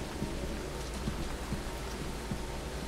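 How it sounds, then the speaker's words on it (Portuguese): Steady, dense rain falls outside a petrol station in the horror video game Fears to Fathom, a continuous hiss with soft droplet patter and no talking. "Está chovendo."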